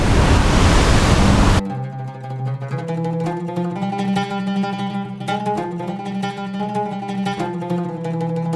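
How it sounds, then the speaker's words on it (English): Roaring rush of Murchison Falls, the powerful waterfall on the Nile, as a dense, loud wall of water noise for about a second and a half before it cuts away to music. "Murchison Falls is famously known as the most powerful waterfall in the world"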